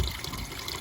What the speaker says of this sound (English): we're just flushing mains water through one rad at a time